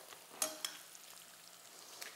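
Bacon frying in a pan, a steady quiet sizzle with a few sharper pops and spatters, faint and close, no voices.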